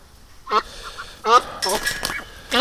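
Domestic ducks kept for eggs honk and quack in a few loud bursts close by, with short pauses between calls.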